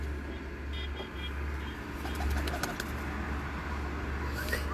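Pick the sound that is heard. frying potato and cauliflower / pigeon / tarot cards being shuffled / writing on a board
pigeon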